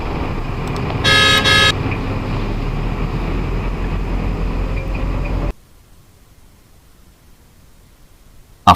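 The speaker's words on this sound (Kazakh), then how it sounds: "Шағын автобус." A minibus engine drones steadily with traffic noise while a short, loud honk sounds once, before the sound cuts off into near silence.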